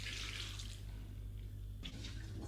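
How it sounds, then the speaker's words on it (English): Salt water is poured over sliced fennel and kohlrabi, a quiet, steady liquid splash that runs continuously with a brief shift near the end. "Now dissolve coarsely salt in water and pour it over fennel and kohlrabi."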